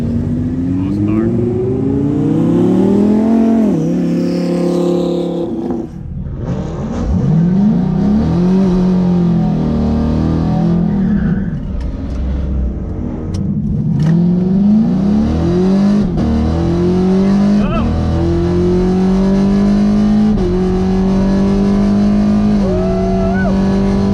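Car engines rev and rise in pitch at Orlando Speed World's drag strip during a Cars, Coffee and Drags event, loud and continuous with repeated throttle blips, while people talk over the engine noise.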